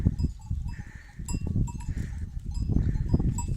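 A flock of sheep led out to water on a winter day, several animals bleating at varying distances over rustling and movement outdoors, with faint clanking that may be a bell.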